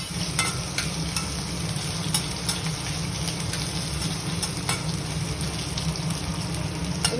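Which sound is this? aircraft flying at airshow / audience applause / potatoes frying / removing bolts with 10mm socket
potatoes frying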